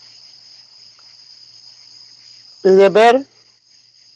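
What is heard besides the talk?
crickets chirping outside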